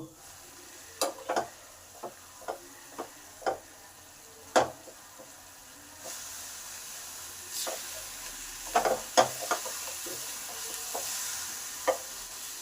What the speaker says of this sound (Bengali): এবার কন্টিনিউ নেড়ে নেড়ে নারকেলটাকে একটু ছাই মেরে নেবো